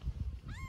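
A newborn, hungry kitten gives a single thin rising meow near the end, close and fairly clear over a low background rumble.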